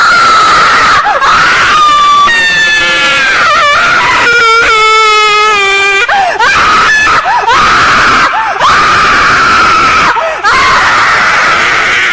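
Loud, piercing screams rise and fall in pitch, several long shrieks up close, broken by brief gaps and a few shorter cries.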